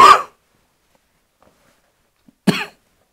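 Two short, sharp coughs separated by a couple of seconds of silence, close and fairly loud.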